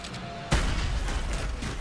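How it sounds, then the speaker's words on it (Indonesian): Gunfire in a violent film scene of a gunman massacring people room by room, with stray bullets striking a two-door refrigerator: a sudden loud blast after a tense lull, followed by sustained, dense crackling noise. "salah satu tembakan peluru Santo kena kulkas 2 pintu milik Jesse"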